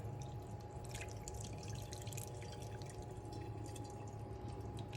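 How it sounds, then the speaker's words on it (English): Hot boiling water, about four cups, is poured slowly over fish skin, giving a faint, steady trickle and drip with a low background hum, no talk. "you take the hot water and you pour it over the skin slowly"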